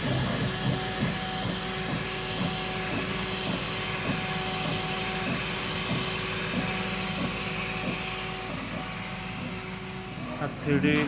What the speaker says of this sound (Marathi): हे प्रत्यक्ष प्रिंट लेयर बाय लेयर काम चालू आहे